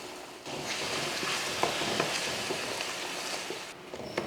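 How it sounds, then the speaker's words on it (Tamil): Masala for chana masala sautéing in oil in a pan, a continuous soft sizzle with a few light scrapes of a stirring spoon, close and steady with no talking. "மசாலா வந்து வதங்கிட்டு இருக்கட்டும்."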